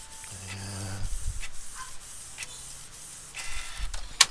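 A Canon G1000 inkjet printer runs a print job nearby, with short mechanical whirs, hums and clicks of the carriage and paper feed in an otherwise quiet room.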